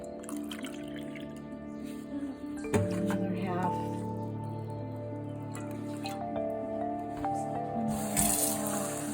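Water and vinegar poured into a pan to clean antique hardware, a soft trickling and dripping pour that runs under a steady kitchen hum while a person speaks briefly.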